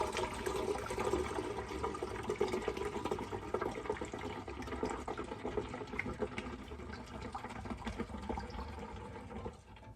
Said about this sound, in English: I'm going to dump this entire container into this reservoir